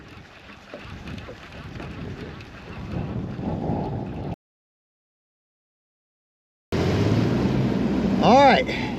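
Strong winter wind over a warm-water discharge lake roars steadily into an outdoor microphone, buffeting and gusting for a few seconds. A short silence follows, then the wind returns louder while someone speaks over it.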